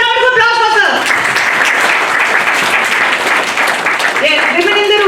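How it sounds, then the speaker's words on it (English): An indoor audience bursts into loud applause that lasts several seconds, with a voice speaking just before it and again as the clapping fades. "Big round of applause for sir."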